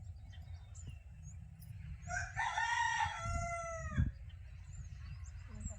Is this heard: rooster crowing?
yes